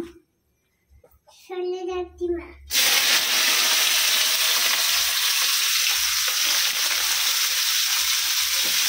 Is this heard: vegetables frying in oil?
yes